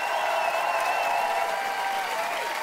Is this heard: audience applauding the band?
yes